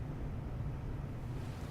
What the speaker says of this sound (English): They got waterfalls.